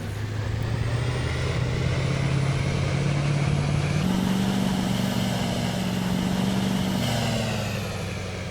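A farm vehicle in Farming Simulator 22 pulls away on a Meadowlands, Wisconsin map, its engine humming loud and steady, the pitch rising in a couple of steps as it speeds up, with no talking.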